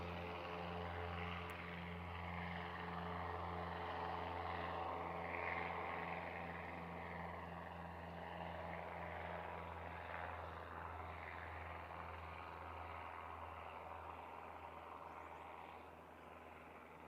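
Aircraft at Christchurch International Airport during a runway change, a steady loud engine drone with low humming tones holding throughout, sustained and fairly close.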